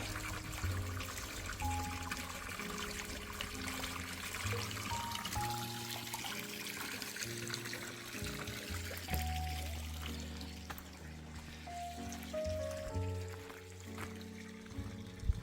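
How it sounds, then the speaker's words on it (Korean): Mountain stream water flowing down from a peak above 800 m, a steady pouring trickle heard close and continuous, with some tonal background layered over the flow and no speech. "산에서 내려오는 물 보세요."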